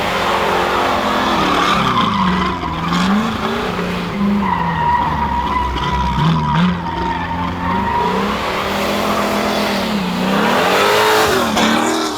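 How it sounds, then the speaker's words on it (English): A 1969 Camaro's engine revs hard while tires squeal continuously in long sweeping skids from burnouts and donuts, loud and close, rising and falling with each spin. "it's more fun doing burnouts. And donuts."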